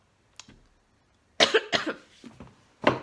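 A faint throat sound, then a burst of three or four harsh coughs in quick succession, followed by one more cough after a short pause.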